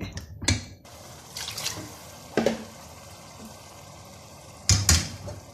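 Water is poured into a pan of ginger chicken masala as it cooks, giving several splashy, hissing bursts with quieter sizzling between them and no voices.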